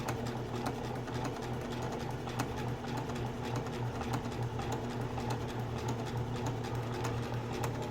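A sewing machine runs steadily while doing satin stitch applique on a shield cover, giving a fast, even, continuous mechanical hum and needle chatter at close range with no talking.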